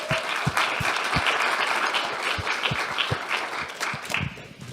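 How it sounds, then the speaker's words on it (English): Audience applause at a graduation ceremony, a steady crowd clapping that keeps up a dense wash of hand claps for the whole stretch, with a few sharper nearby claps standing out. "clap for her"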